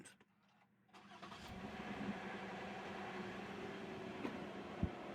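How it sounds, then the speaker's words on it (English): A Toyota 2GR-FE V6 engine cranks and catches after an oil change, then settles into a steady idle that hums on for several seconds. "now it's time to start your engines"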